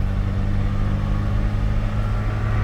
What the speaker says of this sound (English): This is a second gear pull